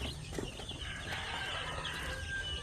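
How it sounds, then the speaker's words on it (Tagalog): Newly hatched chicks peep at a poultry farm, a steady chorus of thin high chirps over a low background hum, close and fairly quiet. "ito yung mga bagong sisiw natin"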